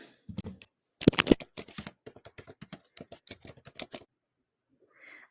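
A question is typed on a computer keyboard as a quick burst of crisp, close key clicks that runs for about three seconds, then stops. A faint click follows after a pause.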